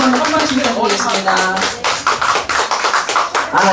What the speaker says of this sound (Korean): 우리 스마일 매니저님께 다시 한번 큰 박수 부탁드리겠습니다